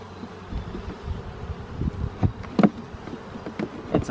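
Honeybees drone in a dense, continuous hum close by around a hive, with individual insects buzzing louder as they pass near.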